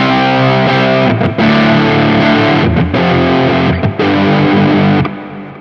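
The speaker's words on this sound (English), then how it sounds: "just a nice thick warm drive sound" Loud, thick overdriven electric guitar chords from a Quad Cortex overdrive ring out, several sustained power chords with short breaks between them, no voices.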